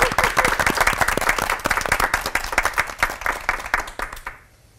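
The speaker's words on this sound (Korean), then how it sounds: "세 분 목사님께 다시 한번 뜨거운 박수 부탁드리겠습니다" A studio audience applauds warmly for three pastors on a church television talk program, a loud, full burst of many hands clapping steadily before fading out at the end.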